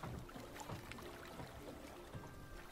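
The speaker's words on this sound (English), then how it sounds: "And the sound of that boat at the dock is just a little to the right." A boat knocks at the dock amid faint lapping water, with soft irregular creaks and small splashes at a low level throughout.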